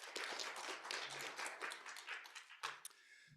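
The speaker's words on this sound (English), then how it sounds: "let's invite a big round of applause for our" Audience applause for the panel members at a net-zero carbon workshop, a dense, steady wash of clapping that runs the whole time and thins out toward the end.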